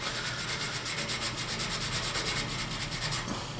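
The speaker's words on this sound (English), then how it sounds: "So I'm just using some steel wool to do both sides." Steel wool scrubbing both sides of a rusty table saw bevel adjustment part gives a steady, close, rhythmic rasping rub throughout.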